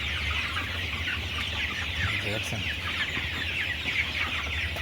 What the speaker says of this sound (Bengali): মুরগি কিন্তু বেশিরভাগই ছোটো ছোটো মুরগি আছে